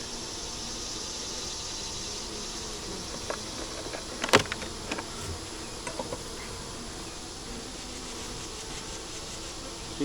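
Honey bees buzz in a steady, low-level drone over an opened hive frame topped with wax, with a brief louder swell of insect noise near the middle.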